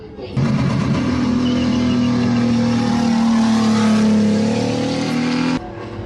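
A car spinning in tight circles during a stunt show, 180 to 720 degrees, its engine held at a high, sustained rev that drones loudly and steadily for about five seconds before cutting off, with people talking faintly around it.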